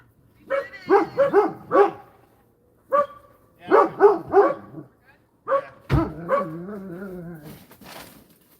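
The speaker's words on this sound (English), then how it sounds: "So the dogs are going to absolutely go nuts." Several dogs bark excitedly at someone arriving, bursts of close, loud yapping and bow-wows in quick clusters separated by short pauses, ending with a whine and whimpering yips.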